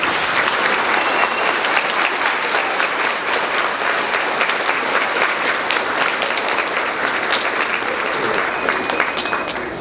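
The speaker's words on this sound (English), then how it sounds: "We're going to give you a round of applause." A loud, steady round of applause from a large crowd at an elementary school 5th grade celebration, sustained dense clapping throughout with no voices standing out.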